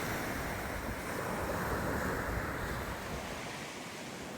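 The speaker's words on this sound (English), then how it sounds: "We'll sit here tonight and watch these waves roll in." Ocean waves roll steadily onto a remote Louisiana shore, a continuous broad wash of surf with wind noise buffeting the microphone, loud and close with no voices.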